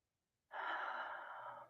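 A loud, deliberate inhale during a morning yoga flow comes in suddenly after silence, a close, breathy rush of air that holds steady for over a second.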